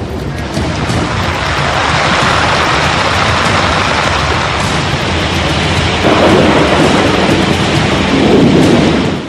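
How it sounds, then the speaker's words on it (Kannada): Heavy monsoon rain pours down with rolling thunder during flooding in Odisha, Chhattisgarh and Telangana; a dense, loud, continuous roar fills the whole stretch, swelling slightly near the end, with no voices. "ಇದು ರಕ್ಕಸ ಮಳೆಯ ರೌದ್ರಾವತಾರ"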